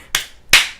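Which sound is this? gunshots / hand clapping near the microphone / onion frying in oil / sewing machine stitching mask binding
hand clapping near the microphone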